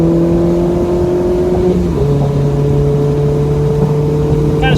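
A lightly modified Mazda ND Miata on a race track drones loudly from inside the cabin, engine holding a steady pitch, dipping briefly as a gear shifts, then pulling on again.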